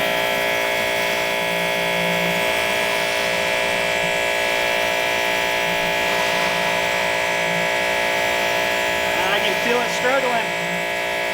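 A Ryobi gas pressure washer drives a 15-inch surface cleaner, giving a loud, constant engine drone and hiss that stays steady and close throughout.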